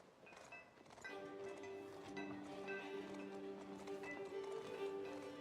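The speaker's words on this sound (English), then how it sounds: "They're rocking side to side when the horses are walking" Horse hooves clip-clop steadily at a walking pace, close and continuous, with a sustained tonal drone of music or game sound running beneath; no one speaks.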